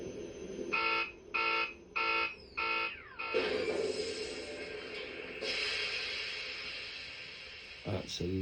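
Hasbro 1984 Proton Pack toy running through its electronic shutdown, four evenly spaced beeping pulses followed by a long hissing venting noise that slowly fades, with a click near the end; fairly quiet and close.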